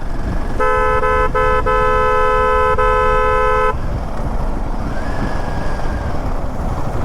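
A vehicle horn blasts in one long sustained honk with a couple of brief breaks on a road in Keonjhar, over steady traffic rumble, then cuts off, leaving road noise.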